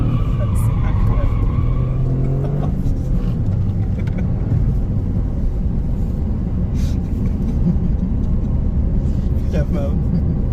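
A Toyota GR Corolla with a small three-cylinder engine rumbles along on the road, engine and tyre noise steady throughout while people talk inside the car.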